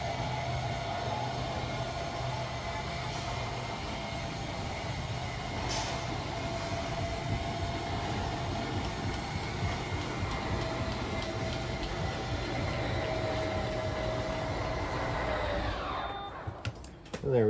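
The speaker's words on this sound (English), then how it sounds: "once that slide's fully extended, you'll just hear a bit of a whine from the motors," Slide-out motors on a 2021 Tracer 24DBS RV give a continuous mechanical whine and rumble as the slide extends, then a clunk and rattle as it stops; the sound is steady and moderately loud.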